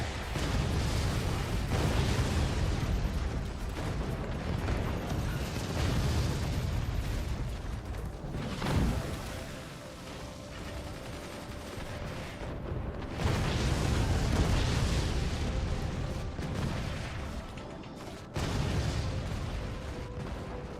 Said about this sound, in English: That's a lot of mortars.